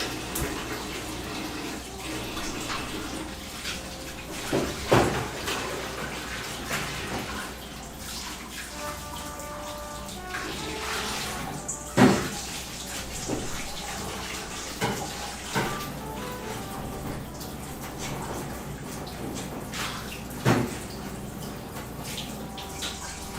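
Tap water runs steadily as a cooking pot is rinsed in a kitchen sink, with a few sharper clanks of the pot at intervals; no talking.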